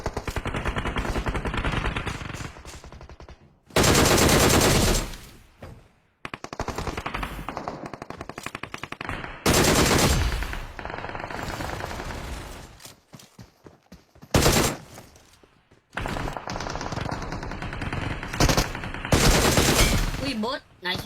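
Rapid machine-gun bursts from a red gun in a video game, loud stuttering volleys separated by short pauses, with a voice talking between the shots.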